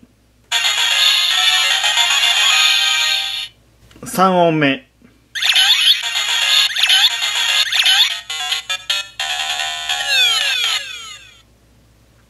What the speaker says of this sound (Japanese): 2つ目3つ目はゲームクリア音とゲームオーバー音がランダムになります